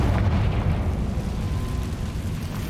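Confringo fire spell explosions in Hogwarts Legacy, a loud, continuous fiery roar and rumbling blast filling the whole stretch.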